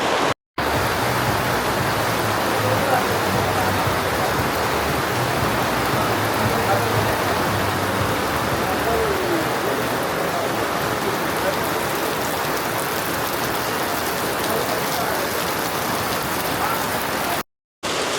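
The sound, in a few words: rain falling in the French village, Bukit Tinggi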